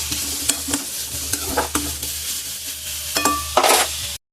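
Potatoes frying in a pan over a medium flame give a steady, close sizzle, broken by a series of sharp scraping stirs of the spatula against the pan.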